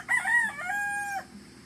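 A hatch brood cock crows once nearby, a clear drawn-out call that rises and holds before cutting off, with quiet background.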